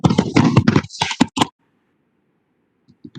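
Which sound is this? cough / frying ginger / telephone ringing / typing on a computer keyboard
typing on a computer keyboard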